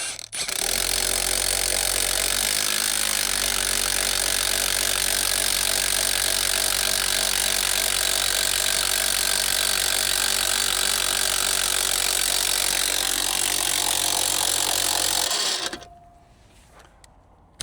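Steady, loud mechanical whir of an AGM scissor jack being powered up under a Polaris Pro R side-by-side, running unbroken for about fifteen seconds before cutting off.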